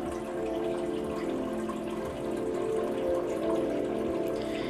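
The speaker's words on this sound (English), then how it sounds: "The water is hitting the rock platform partially, but mostly into the pond below" Water from a waterfall splashes steadily onto a rock platform and into a pond below, a continuous even rush of falling water at moderate distance with no voices.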